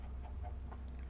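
A Minecraft chicken gives a few short, soft clucks in a quick series over a steady low hum, quiet and alone with no talk.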